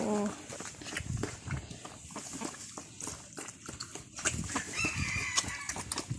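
Chickens cluck and rustle close by with scattered pecking and scratching sounds, a brief crow-like call at the start, and a voice speaking partway through.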